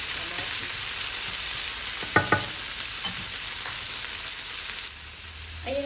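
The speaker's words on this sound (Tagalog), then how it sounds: "Gisa-gisa natin ng konti ito. Kamatis." Tomatoes sautéing in a pan for ginisang ampalaya, a steady close sizzle running throughout, broken by a couple of sharp scraping stirs near the middle and a brief clatter at the end.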